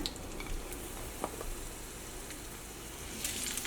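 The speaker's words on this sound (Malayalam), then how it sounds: "ഫസ്റ്റ് നമ്മൾ പപ്പായ ഈ ചൂടായ ഓയിലിലേക്ക് ഇടാണ്." Papaya pieces dropped into hot oil in a pan sizzle and fry steadily, a soft continuous crackle with occasional small pops throughout.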